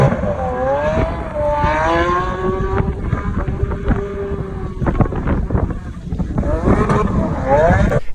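A Lamborghini Aventador SVJ with a 6.5-liter V12 drifts sideways, its loud engine note rising and falling through revs amid wind and tire noise, heard close and steady.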